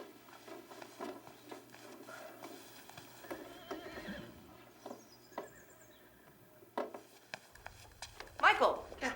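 A horse gives a short whinny near the end after scattered hoof clops and rustling, all faint and distant in a quiet setting with voices talking.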